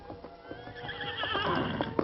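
A horse neighs and whinnies over the clip-clop of hooves in a western radio drama, the animal close and fairly loud, its call rising toward the end.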